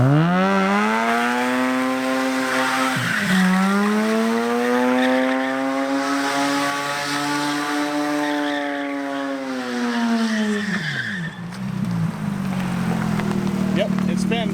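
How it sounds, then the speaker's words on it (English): Mazda RX8 engine in a giant go-kart revving high, then a clutch drop with the wheels spinning and a tire squeal near the end; loud and close, with voices under the engine. "Rev it up and clutch drop it with the wheel to the left."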